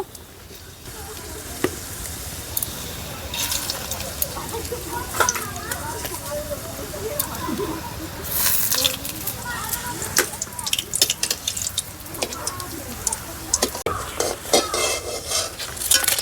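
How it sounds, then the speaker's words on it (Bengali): Pieces of vegetable omelette frying in a pan, with repeated spatula scrapes, metal clinks and a steady sizzle close up, busy and continuous throughout. "একে একে এরকমভাবে সব ভেজে নেব"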